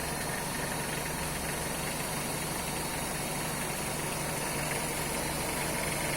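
A Peugeot 504 with a 2000cc engine, converted to a Dream 100 carburettor and running on points ignition, idles smoothly and evenly up close with a steady, unbroken rumble.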